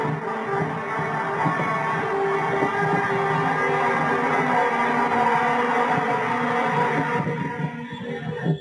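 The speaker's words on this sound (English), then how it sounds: "you would be warned of that with a trumpet sound like this." A shofar sounds as a warning trumpet: one loud, sustained, steady tonal blast with a rich harmonic drone that holds for about seven seconds, then tapers and thins out near the end.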